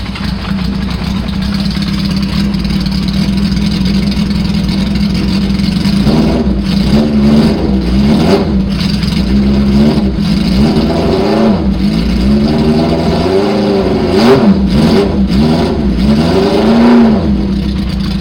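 A motorcycle engine runs loud and close throughout, holding a steady idle before a series of rising and falling revs, with no talking over it.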